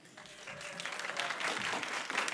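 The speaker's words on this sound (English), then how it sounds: "Thank you for the applause" Guests at a student awards ceremony applaud, the clapping soft at first and then swelling into a steady, fairly distant round of many hands that continues to the end.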